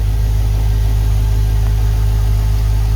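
An LS1 V8 engine running on an engine run stand, a loud, close, steady low rumble with a constant throbbing pulse and no speech.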